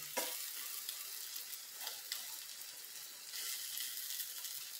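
A fairly quiet, steady sizzle of an omelette frying in a pan, with bright crackling hiss and a few soft scrapes as it is pushed and turned, no voice.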